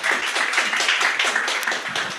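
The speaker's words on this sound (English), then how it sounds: "Applause, applause, applause" Audience applause at a startup pitch night, a dense, steady wash of clapping from a sizable crowd that holds at an even, fairly loud level for a couple of seconds without letup.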